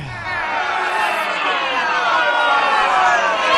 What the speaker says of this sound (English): Oh, the crowd hates it. The crowd is hating it.